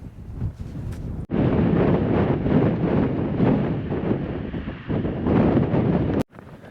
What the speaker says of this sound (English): it started off to a bit of a windy start